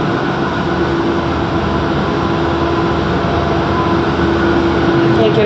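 Newark Airport AirTrain arriving at a station, a loud steady rumble and hum of the rail car from inside, with a faint sustained whine throughout.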